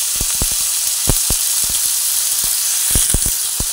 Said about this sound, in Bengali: পেঁয়াজ দিয়ে দিচ্ছি।